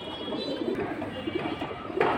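Tota Giribaz pigeons coo softly in short, repeated throaty bursts close by, under a steady hum of room noise with a few sharper knocks.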